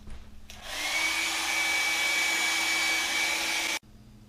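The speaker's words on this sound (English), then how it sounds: "Now I'm going to run my hair dryer around the threaded area and blow air through the barrel" A hair dryer switches on and blows steadily through a muzzleloader rifle barrel with a whooshing roar and a faint high whine, then cuts off abruptly.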